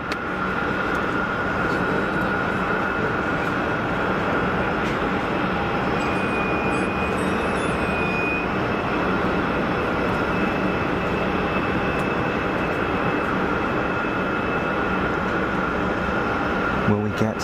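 An Airbus A220 performing a go-around at Geneva Airport, its engines producing a loud, steady, broadband roar that holds without a break throughout.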